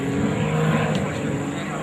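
Variable-pitch propeller of an airplane cycling through high RPM as it comes in to land at the 2009 Selfridge ANG air show, a steady loud engine-and-prop drone throughout, with no speech in the clip.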